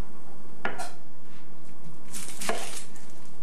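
Two separate knife strikes on a cutting board as an onion is chopped, crisp and close with a short pause between them, over faint room tone and no talking.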